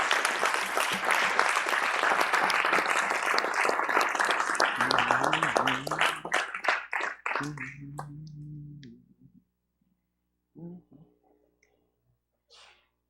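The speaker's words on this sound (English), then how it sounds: "Give me a hand clap." Church congregation clapping hands during a livestreamed service, a loud dense burst of many hands that thins into scattered claps and stops, followed by a low hum and a brief voice.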